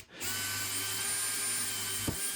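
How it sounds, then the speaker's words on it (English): A power drill pre-drilling pilot holes in wood whirs at a steady high pitch for about two seconds, starting abruptly and ending with a brief clunk, close to the microphone. "Now we're just pre-drilling some holes."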